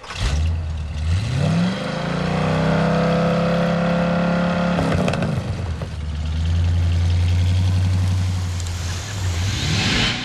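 A deep, loud Chevy V8 engine idles with a steady low rumble, briefly revving up and settling back to a throbbing idle, with no one talking.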